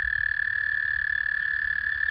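Frogs croaking as the first of the season, a dense steady chorus with a sustained high trill running unbroken throughout, fairly close and continuous with a low rumble beneath.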